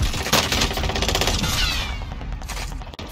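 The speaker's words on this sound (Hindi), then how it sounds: "अबे टरेट से मार रहा है एक बंदा भाई" Rapid, sustained turret machine-gun fire in Call of Duty Warzone Pacific, a dense loud burst of shots rattling continuously through the whole stretch with no talk over it.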